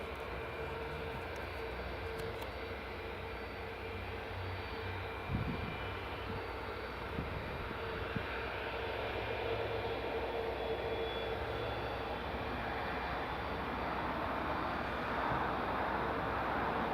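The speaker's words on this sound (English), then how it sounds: "Granted, it'll be an empty Boeing 777, but still, that was a really good landing." Engines of a Saudia Boeing 777 airliner roar steadily just after landing at Newcastle International Airport, a broad, sustained, moderately distant rumble that swells slightly toward the end.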